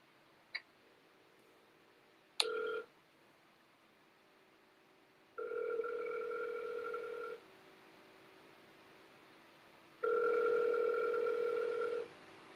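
Outgoing auto-dialed phone call: two long ringback tones separated by a pause, preceded by brief dialing clicks, faint and alone over a low steady fan hum.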